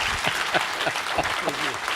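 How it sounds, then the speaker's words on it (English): A short burst of audience applause after a geopolitics talk, dense clapping with a few voices faintly mixed in. "one more round of applause for the rock star of geopolitics"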